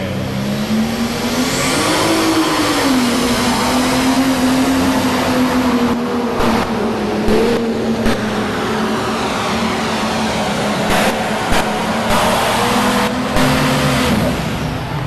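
A pro stock pulling tractor nicknamed the thumper roars through a pull at a 10,200-pound finals event in Louisville, a loud sustained engine drone that rises and wavers as it works down the track.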